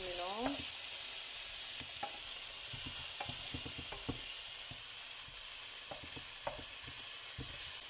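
Shrimp noodles being stir-fried in a pan, stirred with repeated utensil scrapes and clinks over a steady, close sizzle, no voices.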